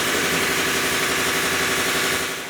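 An air compressor runs loud and close in a workshop where a stock K-series gearset is being assembled, giving a dense, steady mechanical drone that holds throughout and eases slightly at the end.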